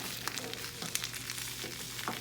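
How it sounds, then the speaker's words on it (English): A vegetable omelet sizzles steadily in a frying pan as it is flipped over with a spatula, with a few soft scrapes and taps against the pan and no voices. "we're going to flip it completely over in the pan"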